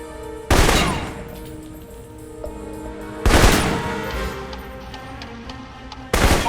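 Assault rifle gunfire in the PC game Alpha Protocol: three loud, sharp shots spaced a few seconds apart, each ringing out and decaying over a low ambient hum.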